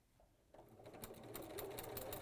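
A sewing machine with a quilting foot stitches a bag seam, starting with a reverse; after a quiet half-second the motor runs steadily, with a fast rhythmic needle clatter that builds and holds at moderate loudness.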